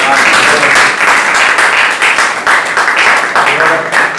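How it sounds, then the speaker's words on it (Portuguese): A classroom of students applauds a teacher during an interdisciplinary school lesson, a loud, dense, continuous wash of clapping sustained throughout, with voices mixed faintly in. "Gente, palmas para o mestre sagrado."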